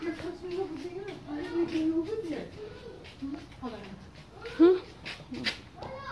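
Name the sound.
abandoned dog whimpering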